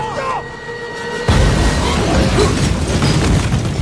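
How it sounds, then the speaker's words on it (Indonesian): A leaking flamethrower gas tank explodes in a film scene, a sudden heavy blast that cuts in after a quieter tonal opening and then rolls on as a loud, dense rumble and debris noise. "tabung gas penyembur api pun bocor yang menimbulkan ledakan"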